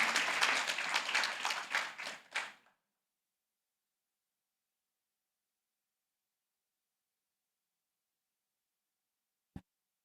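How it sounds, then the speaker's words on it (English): A conference audience gives the morning panel a round of applause, a dense clapping of many hands that fades out after about two and a half seconds, followed by silence and one brief thump near the end. "A very big hand clap to the panel this morning."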